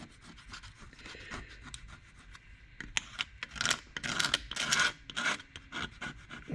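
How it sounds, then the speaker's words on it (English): Grease and crud scraped off the motor of a 1959 Westinghouse AM 17-2 pedestal fan, close irregular scratchy strokes, sparse at first and then quicker and louder bursts of scraping. "just scrapes that fat and grease right off the motor"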